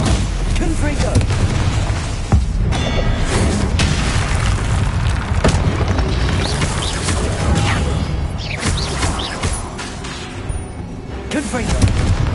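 Repeated Confringo fire-spell blasts in Hogwarts Legacy, dull booms and crackling bursts layered over continuous combat noise and other spell effects.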